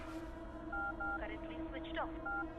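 Short electronic keypad tones beep in a quick sequence as a phone number is dialed, a few dual-pitch presses separated by pauses, while a voice speaks faintly underneath.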